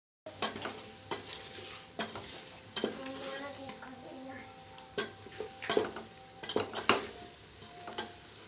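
A peelu salan mixture is stirred in a frying pan, with a utensil scraping and knocking against the metal in irregular strokes over a soft, quiet sizzle, close up and without talk.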